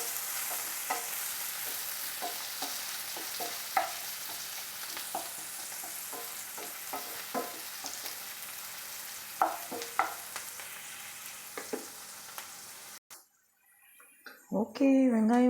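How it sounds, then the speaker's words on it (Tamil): Chopped large onion sautéing in a pan for an egg thokku, a steady broadband sizzle with scattered clicks of a spoon stirring, running evenly before stopping abruptly near the end, followed by a brief voice. "வெங்காயம் நல்லா வதங்கட்டுங்க"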